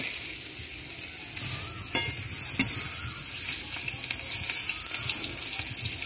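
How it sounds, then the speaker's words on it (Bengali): Potato pakoras fry in hot oil, a steady close sizzle with occasional clinks and scrapes of a spoon against the pan, one sharper knock standing out midway. "দু সাইডে আমরা তেলে ভেজে নেব ভালোভাবে"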